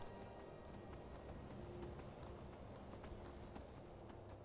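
Rapid, rhythmic hoofbeats of a galloping horse in Skyrim Special Edition continue throughout, steady and fairly faint beneath a low background hum.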